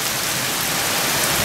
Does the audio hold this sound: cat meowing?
no